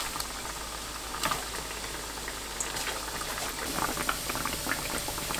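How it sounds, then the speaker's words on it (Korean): Steady crackling sizzle of banana donuts frying in hot oil over low heat, with scattered bubbling pops over a continuous hiss, close and moderately quiet. "식용유가 예열되면 약불로 낮추고 노릇하게 튀깁니다"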